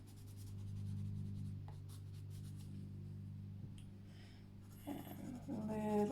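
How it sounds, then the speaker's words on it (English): A colored pencil rubs across paper while burnishing, giving soft, close scratchy strokes in short bursts. A voice briefly speaks near the end. "I'm going to blend that out. And we're going to burnish this one as well."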